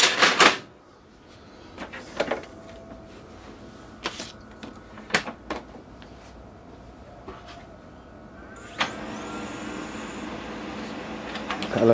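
Brother MFC-7360 / DCP-7055 laser printer trying and failing to pull in paper: a sharp start, scattered mechanical clicks and clunks over a low hum, then a louder whirring motor run near the end.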